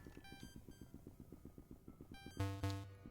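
In the Pokemon Infinity video game, a landline phone rings as a fast, repeating electronic trill. A louder two-tone ring bursts out near the end of the clip.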